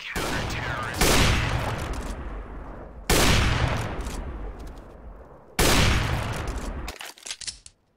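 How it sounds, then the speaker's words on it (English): Three loud, close Nova shotgun blasts from CS GO, each a sharp crack trailing into a long decaying rumble, spaced about two seconds apart, followed by a few quieter clicks. "No way the Nova can fire that quickly."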